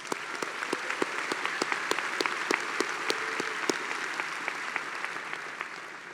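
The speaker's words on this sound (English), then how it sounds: "Let's give them a round of applause." Commencement ceremony crowd applauding in a large venue, a broad wash of many hands with distinct nearby claps popping out, sustained and fairly distant, tapering slightly toward the end.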